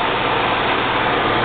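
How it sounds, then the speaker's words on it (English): A 14x40 metal lathe motor runs steadily with a constant mechanical hum and low vibration, loud and close, with no shutdown or braking within this brief stretch. "Seems like the brake doesn't operate and slow down the machine, but it does shut the machine off."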